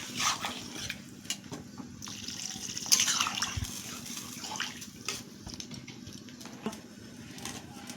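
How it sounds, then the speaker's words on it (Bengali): Water poured onto leafy greens cooking in a pot makes a steady, soft splashing pour that runs through the whole stretch, close by, with a brief brighter splash near the middle. "শাকে জলটা দিচ্ছি।"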